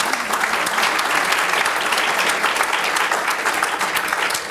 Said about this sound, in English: May I ask a round of applause for our panelists?